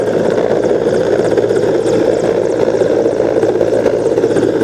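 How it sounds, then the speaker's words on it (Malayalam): A military helicopter passes low overhead near Mundakkayam, its loud, steady rotor and turbine roar filling the air continuously with no pause or speech. "സൈനിക ഹെലികോപ്റ്റർ ഈ മുണ്ടക്കയം ഭാഗത്തേക്ക് ഇറങ്ങുന്ന ഒരു കാഴ്ചയാണ് നമ്മൾ കാണുന്നത്"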